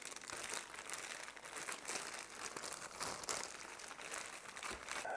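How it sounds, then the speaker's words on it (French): Potatoes tossed with breadcrumbs inside a plastic freezer bag make a steady crinkling, rustling shake that runs for several seconds, close and fairly loud, with no talking. "on va mélanger à l'aide du sac de congélation"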